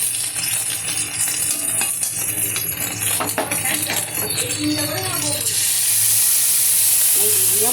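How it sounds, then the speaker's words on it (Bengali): Fish frying in a pan, a loud close sizzle and crackle of oil with clinks of utensils against the pan, ending in a stronger hiss as spices are added, with a voice speaking over it. "এই দেখুন, এই যে দেখুন, মাছ আমার প্রায় ভাজা"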